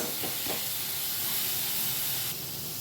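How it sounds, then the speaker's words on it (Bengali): Onion and garlic paste fries in hot oil for a fish curry, a loud, steady close hiss with a brief clatter near the start and no talking. "পেঁয়াজ রসুনটাকে ভালো করে ভেজে নেব তেলের মধ্যে"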